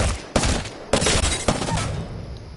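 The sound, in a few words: Prowler burst SMG firing in Apex Legends video game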